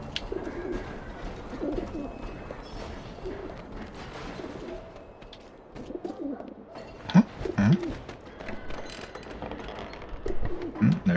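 Pigeons or doves cooing in a cage-like coop in the video game Alice Madness Returns, soft repeated low coos over a busy ambient background, growing louder in bursts toward the end.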